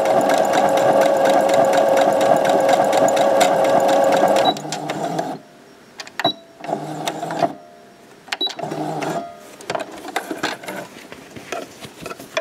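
A sewing machine stitches a T-shirt hem, running in a loud, steady mechanical whir for several seconds, then stopping and restarting in short bursts with clicks and pauses between them.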